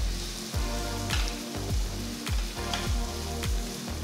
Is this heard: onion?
yes